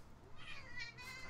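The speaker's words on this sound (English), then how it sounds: "Angry cat." Angry cat meowing, a few drawn-out, rising and falling yowls, fairly faint and close, with no talk over them.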